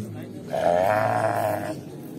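A single drawn-out bleat from a 5.5 to 6-month-old lamb at a livestock show in Talas, close and fairly loud, lasting about a second against a low background murmur.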